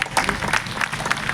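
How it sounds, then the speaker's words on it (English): Brief applause from a convention audience at a 50th-year celebration in Goa, a short patter of clapping from a crowd at moderate distance. "A big round of applause, please."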